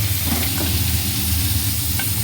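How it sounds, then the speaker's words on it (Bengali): Hot oil crackles and sizzles steadily as green banana pieces fry in a pan, with a low hum of the stove underneath and no talking. "এবার কাঁচকলাগুলো ভেজে নেবো"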